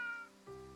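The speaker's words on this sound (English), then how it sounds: "And kitty." A cat meows in the video game Triangle Strategy, two clear tonal mews back to back, the second lower and drawn out, heard alone and fairly faint.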